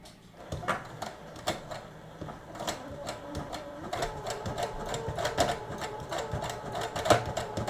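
A sewing machine stitches fabric for a dress, running as a steady, busy mechanical clatter of rapid needle strokes that grows slightly louder toward the end.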